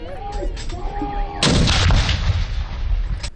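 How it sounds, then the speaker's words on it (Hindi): A cannon booms at 1.4 seconds in a 21-gun artillery salute on Pakistan Independence Day, close and loud, and its roar rumbles on to the end. Crowd noise and a faint tone come before it. "21 तोपों की सलामी से दिन का आगाज।"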